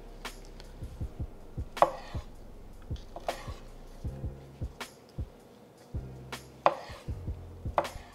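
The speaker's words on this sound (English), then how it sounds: "So that's how I like to cut mine." A knife slices calamari into thick rings on a cutting board, giving crisp, close taps in irregular clusters, with some soft handling noise between cuts and no talk.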